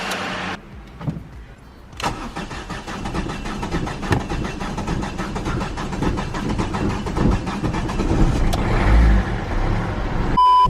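A Yamaha R25 motorcycle with a fuel injection or spark plug fault has its starter cranking over and over without the engine catching, fairly loud and close.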